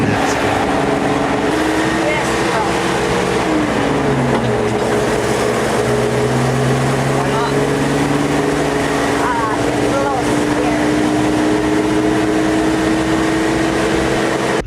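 The engine of a 70-year-old truck drones loud and close through a 3-2 downshift, its pitch dropping and then climbing steadily, with mechanical rattle and road noise underneath.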